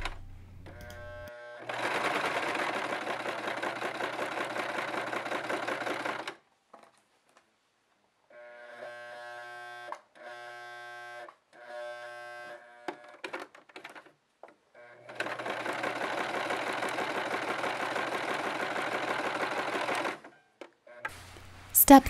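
A sewing machine stitches the short edges of a faux-fur-lined stocking cuff in two long steady runs of rapid needle chatter, with shorter stop-start bursts between them, close and alone.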